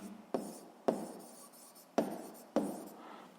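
A pen writes in four quick strokes, each beginning with a sharp scratch that fades out, heard up close and alone with no voices.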